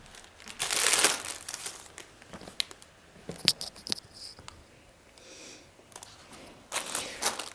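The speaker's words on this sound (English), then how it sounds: "more plastic bags. Thankfully, these are recyclable." Recyclable plastic bags crinkle and rustle in irregular bursts, close by and loud at moments, separated by quieter handling noises and pauses.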